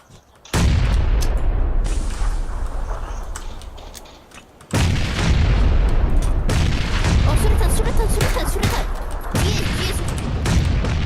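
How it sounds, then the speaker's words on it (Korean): A loud grenade blast in PlayerUnknown's Battlegrounds bursts in, then after a short lull a second heavy explosion and rumbling gunfire follow, loud and close throughout. "어 수류탄 수류탄 수류탄"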